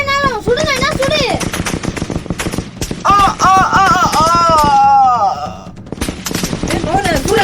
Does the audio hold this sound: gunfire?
yes